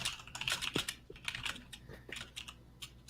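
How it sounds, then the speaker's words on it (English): Tense, rapid typing on a computer keyboard, a close, uneven run of sharp key clicks with short pauses and a few heavier thumps, no voices. "Tense typing."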